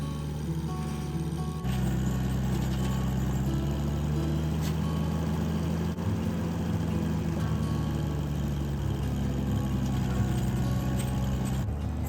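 Tractor with a front loader idling on icy ground at a homestead in Canada, a steady mid-pitched engine drone with a low hum that shifts slightly in tone after the first couple of seconds, no talking.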